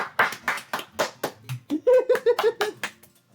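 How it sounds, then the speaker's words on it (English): Clapping in the video game Doki Doki Literature Club: a handful of sharp, separate claps that merge into quick clapping mixed with short tonal game sounds, then fade out. "I'm the first to start applauding."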